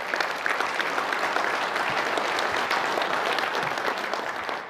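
An audience gives a round of applause for city council members at a public event, a steady, full burst of many hands clapping at close range that holds evenly throughout before easing slightly at the end.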